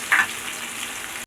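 Oil sizzles and crackles steadily in a pan with mustard seeds, curry leaves and chopped shallots frying, a close, continuous hiss with a brief sharp pop near the start.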